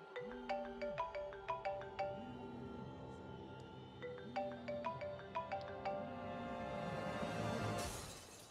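A phone ringtone plays a repeating melodic chime pattern for several seconds, moderately loud and unanswered. A brief noisy burst comes at the end.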